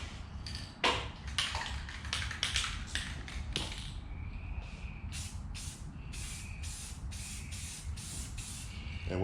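Several short bursts of 2X clear coat aerosol spray hissing onto a drop cloth mask, close and fairly loud, separated by brief pauses and a few taps.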